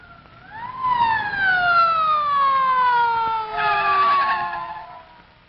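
An ambulance siren from a 1947 film wails loud and close in long, smoothly falling tones that rise again and swell once more near the end, heard alone without speech.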